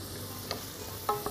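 Mushrooms sauté in a pot with onions for a mushroom-sauce pasta, giving a faint, steady sizzle with a few light clinks and stirring taps.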